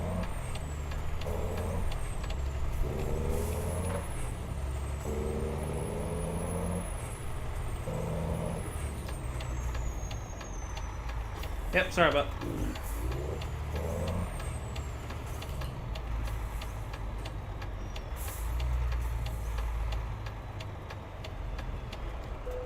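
A heavy truck driving through traffic in Euro Truck Simulator 2: a steady low engine drone, a sharp air-brake hiss near the middle, and lighter traffic noise around it, with a brief spoken remark.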